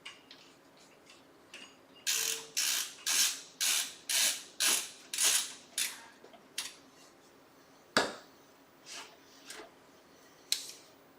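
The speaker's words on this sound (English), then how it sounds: "we'll get some screws into the back of it" A screwdriver drives screws into the back of a NAS enclosure, a run of about ten rhythmic clicking ratchet-like bursts followed by scattered separate clicks and taps, close and fairly quiet with no talking.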